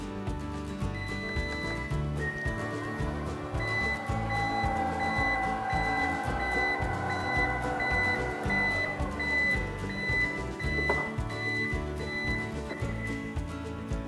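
A thin electronic buzzer tone from a Toyota Noah/Voxy power back door sounds steadily for several seconds over a low mechanical hum and whir, then stops.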